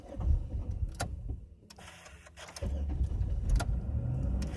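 A 2000 Chevrolet Impala with a hard-start problem cranks and its engine catches again, a short whir followed by a low steady idle rumble, close by and without speech.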